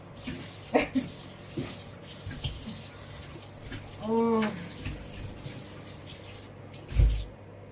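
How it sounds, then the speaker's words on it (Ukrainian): Water poured into a cooking pot in a home kitchen, a gurgling splash with a rising filling tone near the middle, amid light clinks and handling noises. "Так, заливаю водичкою і... ставлю варить."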